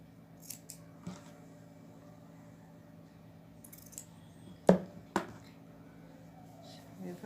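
Scissors snipping a small triangle from the edge of a cloth face mask, with a few soft, close cuts and two sharper snips near the middle over a quiet room hum.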